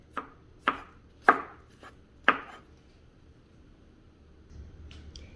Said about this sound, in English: prep my garlic, chop up my garlic